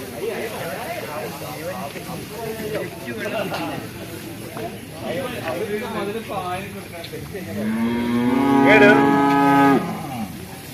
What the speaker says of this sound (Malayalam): നല്ല പോത്ത് കുട്ടികളാണ്